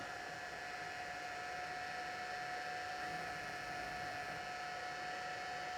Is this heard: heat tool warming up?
yes